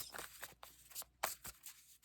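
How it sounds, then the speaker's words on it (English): Tarot cards being shuffled by hand: a quiet, close series of soft swishes and flicks coming in a loose, repeating rhythm. "As I shuffle these cards"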